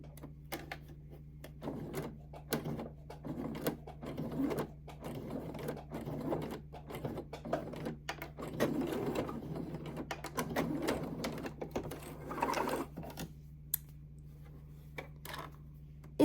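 Sewing machine back-tacking over the starting seam of a fabric bag strap, a steady close mechanical whir in short repeated bursts with light clicks, running alone without talk.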